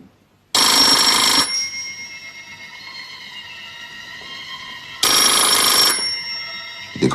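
A telephone rings in two long bursts separated by a few seconds, each ring bright and close with a metallic ringing tail fading in between.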